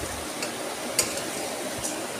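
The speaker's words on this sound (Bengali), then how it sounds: "মুড়িটা দিয়ে ভালো করে মাখাবো কড়াইয়ের মধ্যে" Puffed rice is tossed and mixed in a wok with fried potatoes and chillies, giving a faint, steady rustle and scrape with a few light metallic clicks.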